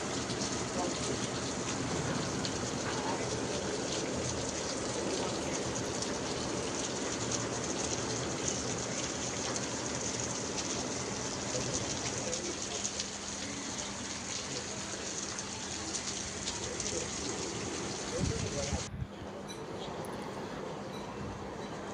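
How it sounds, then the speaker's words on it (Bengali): A sudden shower of rain falls on a hot day, making a steady, even wash of noise that continues for a long time before it thins out near the end. "যখন মন চায় তখনই হুটহাট বৃষ্টি চলে আসে"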